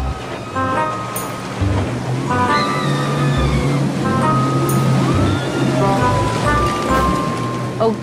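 Sea waves wash steadily onto a beach as a continuous broad rush, with people talking over the surf throughout.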